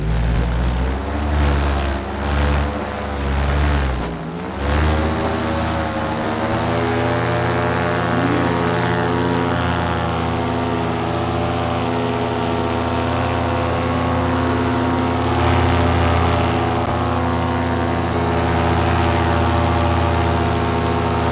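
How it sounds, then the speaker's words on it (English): A paramotor engine, just back in service after its carburetor was cleaned, runs steadily at full throttle: a loud, close, sustained harmonic drone that wavers briefly early on, then holds strong and even without talk. "I'm gonna go to full throttle a couple times and make sure that the engine is working really, really well"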